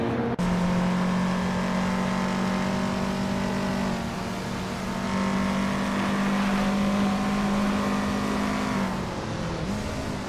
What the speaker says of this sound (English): Maya is leading the race in a classic 1988 BMW M5 E34.